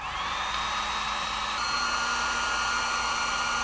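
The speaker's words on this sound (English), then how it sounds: "I'm going to take the heat gun and heat it up and bake that stuff out of there" A heat gun blows a steady, loud whir while heating a stuck carburetor jet on an Amal 930 carb from a barn-find BSA motorcycle, holding a constant tone throughout with no talking.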